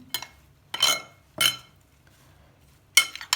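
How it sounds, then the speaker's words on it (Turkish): A utensil stirring a börek mixture in a bowl, heard as four quiet, separate clinks and scrapes against the bowl with silence between them. "Ve bunu da güzelce karıştırıyoruz"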